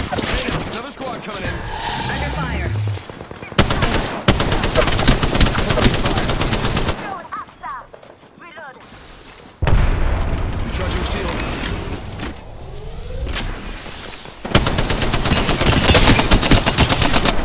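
Heavy automatic gunfire in a shooter video game, long loud bursts broken by a quieter gap and booming impacts, with a voice speaking over parts of the fight.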